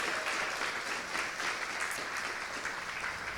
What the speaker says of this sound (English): give maybe a round of applause or a few yahoos, yoo-hoos to Ben